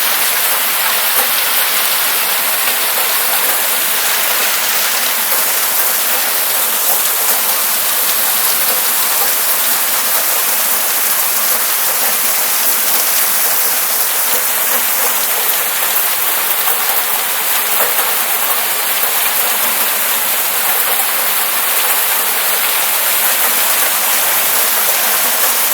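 A Colorado hailstorm pounds the ground and street in a dense, unbroken roar of hitting stones, loud and steady throughout with no pauses and no talk.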